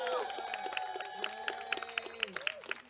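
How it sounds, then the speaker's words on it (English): At an outdoor press conference on the steps of Sacramento, a small crowd gives scattered applause and cheers, with sharp individual claps rising over voices, shouts and general murmur. "Please give them a round of applause."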